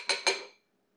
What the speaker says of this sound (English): cleaning the spoon